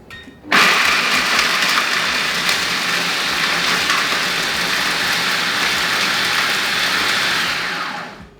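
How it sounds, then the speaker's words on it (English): A food processor grinds toasted hazelnuts and hardened caramel into praline, kicking in abruptly and running as one loud, steady whirring roar with a gritty rattle of pieces before winding down at the end. "So I'm just pouring everything into the food processor."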